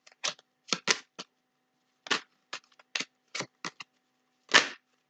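Tarot cards being shuffled and drawn: a string of short, crisp card snaps and riffles in irregular bursts, close and fairly loud, with no talking.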